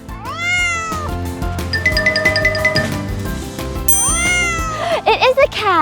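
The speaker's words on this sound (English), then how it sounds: "I think it's a cat." A cat meows loudly and repeatedly, with long drawn-out cries, some of them rising and wavering, heard close up over a backing of music.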